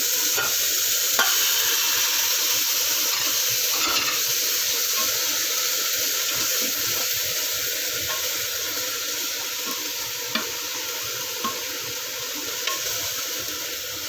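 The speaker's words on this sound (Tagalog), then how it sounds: "So habang ginigisa natin yung laham dyan" Meat (laham) sautéing in a pan for a Saudi margok stew, a continuous sizzling hiss with occasional stirring scrapes and clinks, close and steady, with no talk.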